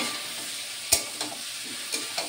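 Chopped papaya seasoned with salt and turmeric fries in a pan with a soft, steady sizzle, punctuated by a few sharp clinks and scrapes of a spatula stirring against the metal.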